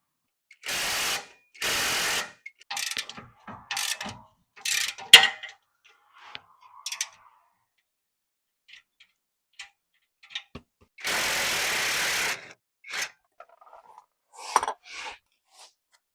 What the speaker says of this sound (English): A socket and a wrench.